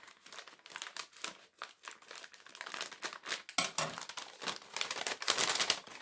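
Pretty wrapping paper crinkles and crackles as a small advent calendar gift is unwrapped, with close, busy rustling that grows louder and denser toward the end.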